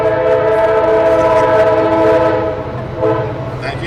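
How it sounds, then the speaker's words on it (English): A train passes close by outdoors during a gathering, its horn sounding in loud sustained harmonic blasts over the steady rumble and rattle of the cars, which thin out slightly toward the end. "And we have a train."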